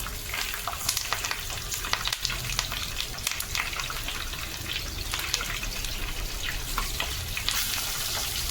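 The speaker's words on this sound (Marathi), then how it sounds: "मच्छी द्यायचं. आता आपण तव्यामध्ये सोडूया." Bala fish coated in flour and semolina frying in a flat pan, a steady dense sizzle with crackling pops and brief stirring or water sounds, close and continuous with no talk.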